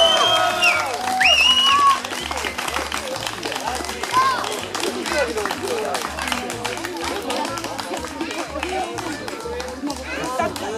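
A crowd at a ski event awards ceremony claps for the women's category winners, steady applause and chatter under an announcer's voice over a thumping rhythmic music beat.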